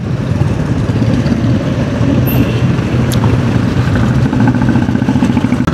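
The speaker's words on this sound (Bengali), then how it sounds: "বাট এত বাইকটাই যাচ্ছে।" Several motorbikes on a village road in the morning, one continuous loud, close engine roar and rumble with no break in the traffic noise.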